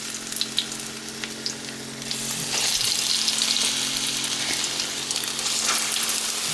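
Green plantains frying in hot oil, a steady close sizzle that swells and grows denser after a couple of seconds as the pieces settle into the pan, with no talking.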